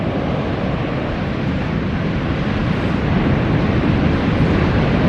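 Big waves breaking over a sandbank, heard from a boat at sea as a constant loud roar of surf mixed with heavy wind rush on the microphone.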